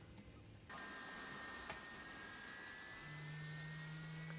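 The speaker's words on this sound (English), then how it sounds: "We'll just wait for the engine." A Boeing 767-300 jet engine spools up in the X-Plane 11 flight simulator, a faint steady hum that steps up abruptly, then rises into a sustained whine and drone with a low tone added near the end.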